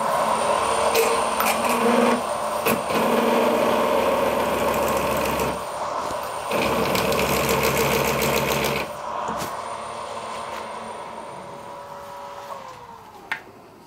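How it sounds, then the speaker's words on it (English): A power tool whirs steadily while countersinking a screw-head hole in an aluminium base casting, the motor running in long close passes separated by brief pauses. "I'll put a nice decountersink in there to sink that head in."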